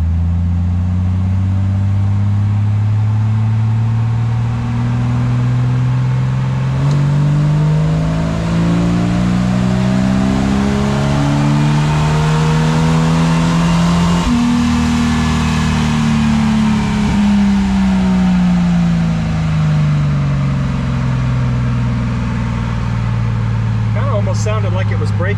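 A Jeep Wrangler 4.0 engine with bolt-on 1.7 roller rockers revs on a dyno, climbing steadily in pitch to a peak, then winding back down, loud and close throughout.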